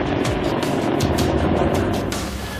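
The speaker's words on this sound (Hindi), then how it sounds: "चुनूक हेलीकॉप्टर ठीक हमारे सामने रनवे पर लैंड करता हुआ" A Chinook helicopter lands on a runway close by with a heavy, continuous rumble, and its rotors beat in loose, thudding pulses throughout.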